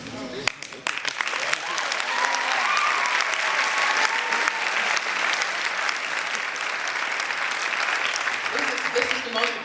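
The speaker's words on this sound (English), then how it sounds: "This is the most applause I've ever gotten from a group." An audience at a Reform Jewish biennial convention breaks into sustained, dense applause after a speech, the clapping swelling and holding steady, with a speaker's voice returning near the end.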